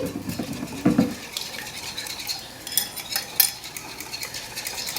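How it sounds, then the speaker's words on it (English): A whisk stirs Caribbean coleslaw dressing of Dijon mustard, olive oil, honey, lime juice and hot sauce in a bowl, with soft scraping and a few light clinks against the side, close and fairly quiet. "I'm going to use my whisk to whisk all these ingredients together"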